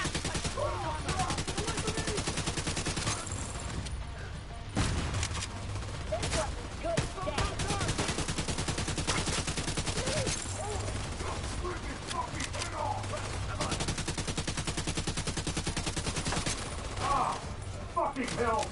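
Turret gunfire in The Division 2, a loud, sustained stream of rapid automatic shots with echoing bangs and brief pauses, played over constant dense game noise and chatter.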